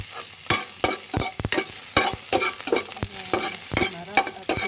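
Garlic sautéing in a pan for pinakbet, with repeated scraping stir strokes and a steady sizzle close by, no talking.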